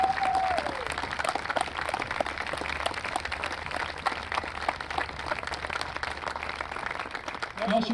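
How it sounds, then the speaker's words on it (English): An audience at a high school marching band show applauds senior parents with steady, dense clapping that continues for the whole stretch, with a brief voice at the start. "let's give our senior parents a round of applause"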